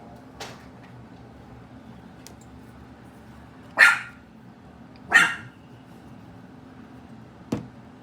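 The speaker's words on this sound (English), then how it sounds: "Now you all know that's Prince barking" A dog barks outdoors at a distance, giving a few sharp, separate barks spaced over several seconds against a quiet background hum.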